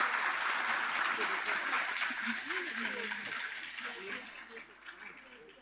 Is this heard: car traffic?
no